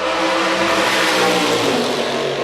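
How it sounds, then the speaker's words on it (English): A historic sports racing car at Sebring roars past very loudly, its engine note a dense, raspy blare that stays strong and continuous throughout, with no voices. "that car is ridiculously loud."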